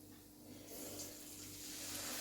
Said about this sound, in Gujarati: 1/4 કપ જેટલું પાણી એડ કરવાનું